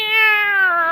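A cat gives a single clear, drawn-out meow, close and loud, with the tone sliding slowly downward.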